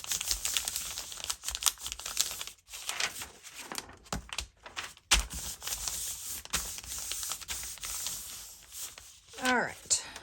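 A sheet of paper is crumpled and pressed down onto a freshly painted old book cover being made into a journal, giving close crinkling, rubbing and rustling bursts with a few quiet pauses.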